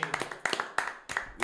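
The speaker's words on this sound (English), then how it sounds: "let's give a clap" Several people clap in short uneven bursts on a podcast set, sharp close hand strikes spaced irregularly over about a second and a half, fairly quiet overall.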